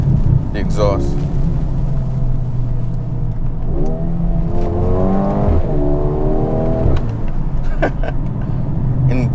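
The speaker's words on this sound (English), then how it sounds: "we'll slow down so you can really hear the exhaust." A 2022 Mercedes GLB35 AMG's exhaust drones and rises as the SUV drives and its dual-clutch gearbox shifts, loud and close with rising and falling revs, while someone talks over it throughout.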